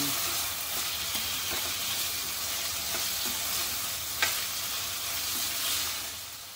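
Finely chopped tomatoes hit a pan of sautéed ginger-garlic paste and fry with a steady, close sizzle and hiss, a few soft stirring scrapes rising briefly over the continuous crackle; no one talks.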